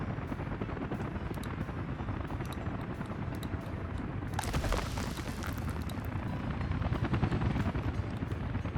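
A construction helicopter in the Workers & Resources city-building game drones continuously with dense rotor chop, loud and steady throughout, swelling slightly midway and rattling toward the end.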